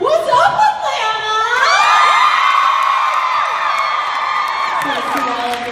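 A fan convention crowd cheers and whoops loudly, a sustained roar of many voices with high shouts rising over it, steady for several seconds before easing slightly.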